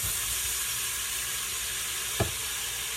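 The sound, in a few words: onion and garlic sizzling in cooker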